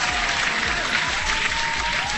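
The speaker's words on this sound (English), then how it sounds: "And again, hand clap to you." Steady applause for a guest on a live crypto talk show fills the whole moment, even and fairly loud with no pauses, with a faint tone running beneath.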